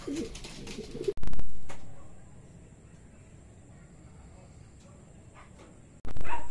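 Racing pigeons coo softly and steadily at a club training loft, with two sharp loud bursts of noise breaking in near the start and end.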